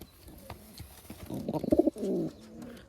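A pigeon cooing close by in a quiet setting: a soft, throaty run of low coos that swells briefly in the middle, with faint background noise.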